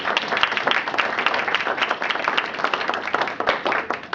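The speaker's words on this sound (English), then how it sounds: "we should have a round of applause for the kitchen crew" Dense, steady applause from a gathered audience honoring the kitchen crew at a family luncheon, many hands clapping close by for the whole stretch without pause.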